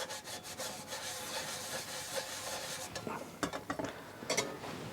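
A bioethanol gel burner gets its soot residue rubbed off by hand, a close, scratchy scrubbing with quick rubbing strokes and a few sharper scrapes toward the end.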